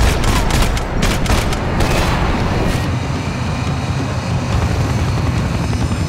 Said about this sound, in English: We have an helicopter now.